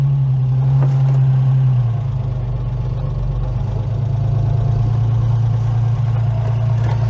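A Ford Capri MK1 engine idles steadily after eight years off the road, a loud, close low drone with a slight clatter; the pitch drops a little about two seconds in, then holds at a fast, even idle.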